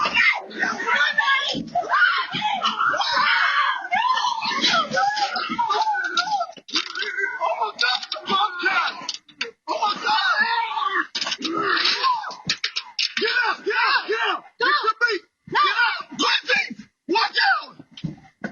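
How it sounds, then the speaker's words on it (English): A woman screams repeatedly while a bobcat attacks her, her loud cries and wails coming in rapid, overlapping bursts with other frantic voices mixed in, gaps opening up toward the end. "you'll hear some screaming as his wife gets attacked by a bobcat"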